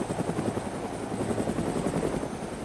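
A helicopter's rotor thumps steadily and loudly throughout, with a faint high whine above the chopping beat; no one speaks.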